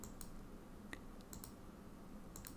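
Clicking a computer mouse while twirling a shape in Adobe Illustrator: a few sparse, faint, close clicks spaced apart over a steady background hiss.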